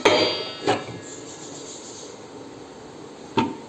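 Grinding stones are set into the metal drum of a 2-litre wet grinder, giving three sharp, close clanks: two in quick succession, then one more after a pause, over a faint room hum.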